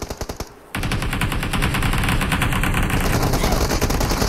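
Automatic gunfire in BGMI, rapid-fire bursts in a fast regular rhythm, a few shots, a brief pause, then a long loud sustained spray of bullets.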